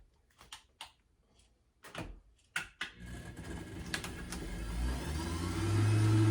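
A few sharp clunks and knocks, then a juicer's loud motor whirs up and grinds steadily through leafy greens, growing louder and rougher.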